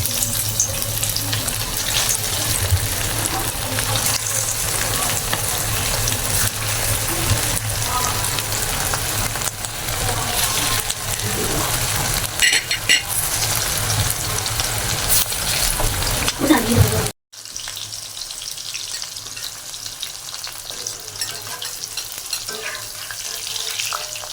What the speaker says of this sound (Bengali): কড়াই গরম হয়ে গেছে তেল দিয়ে দিচ্ছি এবার আমি একে একে ছেড়ে দিচ্ছি